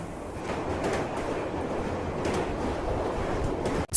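The Amrit Bharat Express, a non-AC train with sleeper and unreserved coaches on the Malda to Bangalore route, running with a steady low rumble and rushing noise, ending in a brief sharp burst.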